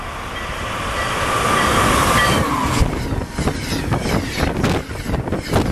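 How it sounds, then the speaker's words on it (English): An Amtrak or MBTA train pulls toward the platform at Canton Junction after a blizzard, a loud rising rumble with wind buffeting, then rhythmic clattering of wheels over rail joints as cars pass close by. "Train approaching."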